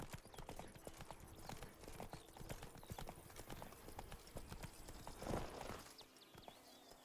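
Horse hooves clip-clopping in The Witcher 3 video game, a quiet steady rhythm of hoofbeats at walking pace with a brief louder rustle near the end.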